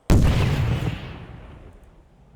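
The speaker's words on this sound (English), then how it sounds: "Things exploding there." A single deep explosion from StarCraft II: Legacy of the Void, a sudden loud boom with heavy low-end rumble that decays smoothly over about two seconds, heard on its own.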